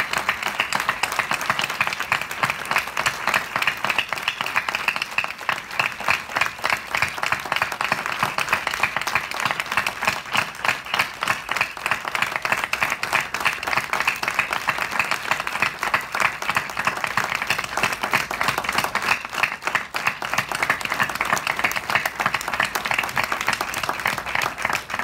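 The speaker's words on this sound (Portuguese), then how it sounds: "dar uma salva de palmas para Marielle pelo trabalho dela" Sustained audience applause at a music panel during SxSW 2018, a dense steady patter of many hands clapping that holds for the full span without speech over it.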